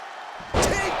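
Wrestler slammed to the mat with a gourdbuster in WWE 2K24, a single sharp heavy impact following a brief rustle, with a commentator talking over it.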